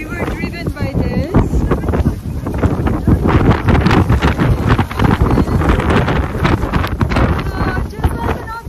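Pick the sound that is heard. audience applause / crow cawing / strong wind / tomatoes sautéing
strong wind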